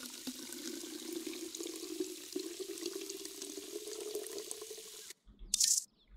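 Water runs from a sink tap into bottles in the video game Drug Dealer Simulator, a steady close stream that cuts off abruptly, then a short splashy burst.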